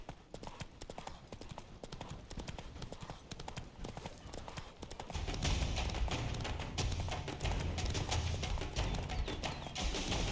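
Roach, a horse in The Witcher 3, gallops with rapid, steady clip-clop hoofbeats that grow louder and fuller midway as the ride speeds up, over dense in-game ambience.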